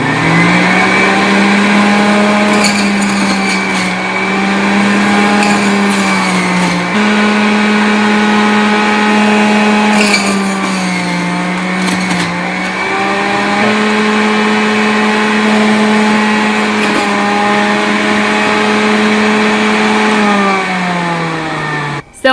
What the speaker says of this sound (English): This shouldn't be too hard on the juicer, but I'm just gonna go ahead and feed these 4 pieces through.